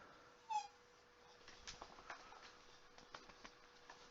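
A needy pet dog indoors gives one short, high whimper near the start, followed by faint pattering and shuffling movements at low volume.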